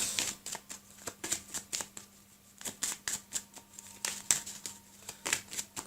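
Oracle cards shuffled by hand in a quiet room, a steady run of soft, close riffling and flicking bursts, each about half a second apart, with no voices.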